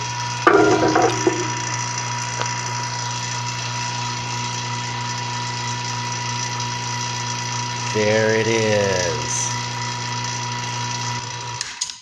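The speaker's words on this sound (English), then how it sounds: "let's turn off the vacuum pump so maybe you can hear me" A vacuum pump runs with a steady mechanical drone, a low hum and constant rattling whir throughout, with a brief voice near the end.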